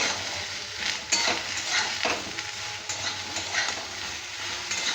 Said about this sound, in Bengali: ঝিঙেটাও একটু ভেজে নেব